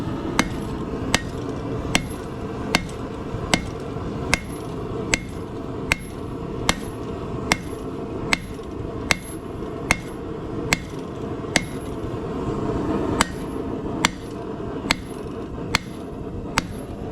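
Hammer blows ring out on hot metal over an anvil as the stock is bent and beveled flat into a paddle shape for an anvil tool: about two dozen sharp, evenly paced strikes, close and loud, over a steady background roar.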